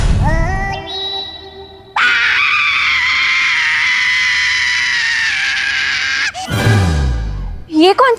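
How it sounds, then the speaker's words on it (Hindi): A loud, sustained human scream holds steady for several seconds after a shorter rising cry, then breaks off into a falling groan and shorter yelps, close and dominant. "ये कौन चीखा?"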